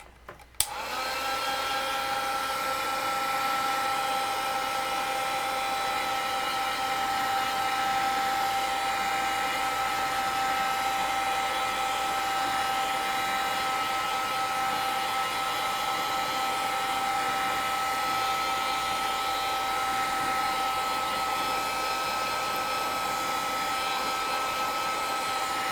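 A heat tool drying rust paste on a mixed media card, a steady loud whirring blow that starts abruptly after a brief click and runs unbroken for the rest of the clip.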